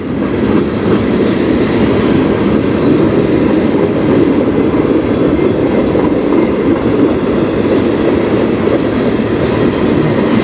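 A train rolls past on the Strathroy Subdivision rail line, a loud, steady, continuous rumble of wheels on track with faint clickety-clack, sustained throughout without letup.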